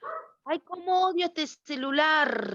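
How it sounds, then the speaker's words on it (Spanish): A dog barks in repeated yapping bursts close by in a home, while someone talks over it during an online nursing class. "mientras el perro ladra"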